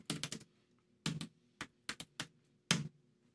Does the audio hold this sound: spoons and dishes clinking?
no